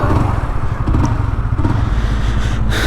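A Honda CBR150R motorcycle engine with its stock exhaust runs close by, giving a loud, rough, throbbing rumble with slight clatter, steady and without talk.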